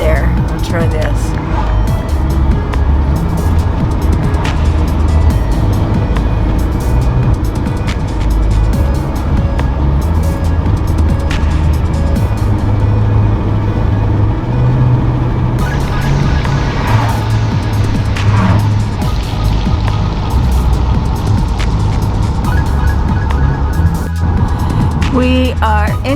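A car driving on a country road in Oaxaca, Mexico, heard from inside the cabin as a loud, steady engine and road rumble with tonal drone shifts, and a voice talking at times.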